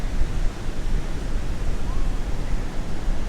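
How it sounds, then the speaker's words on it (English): Ocean waves washing onto an empty beach at night at Surfers Paradise, Queensland, a steady windy rush of surf with gusting wind noise, no voices. "you can just sit back and hear the waves"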